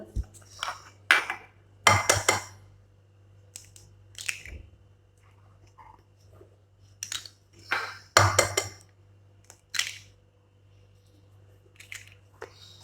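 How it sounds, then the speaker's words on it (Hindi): Chapli kabab mixture with two eggs and finely chopped tomato being mixed in a bowl, giving sharp clinks and scrapes in irregular clusters, close and fairly quiet with pauses between. "अभी हम इसे अच्छी तरह मिक्स कर लेंगे।"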